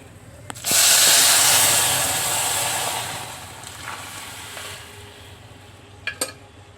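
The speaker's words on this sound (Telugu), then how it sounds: "ఇప్పుడు హై ఫ్లేమ్లో పెట్టి పప్పుచారు ఇందులో వేసేసుకుందాం" A sudden loud sizzle as lentil soup (pappucharu) is poured into hot tempering oil over high flame, hissing strongly then slowly fading, with a few utensil clicks near the end.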